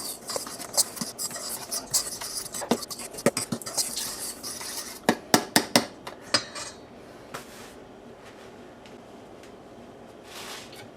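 Chili ingredients stirred together in a bowl, a spoon or utensil clinking and scraping against the bowl in a quick irregular run of sharp knocks that thins out toward the end, close and fairly loud.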